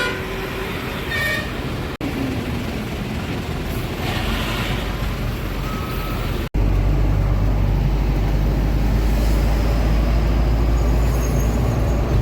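Trucks and other vehicles idle in a long traffic queue near the Maharashtra border on an Indian highway, with a steady loud engine rumble, brief horn toots and passing traffic. Two abrupt cuts break the recording, and the low drone grows heavier after the second.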